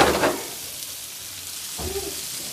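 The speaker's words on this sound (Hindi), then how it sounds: "अब इसको हम फ्राई करने होने देंगे।" Stuffed okra coated in masala frying in a pan gives a brief loud sizzle at the start, then a quieter steady fry with another soft burst near the end.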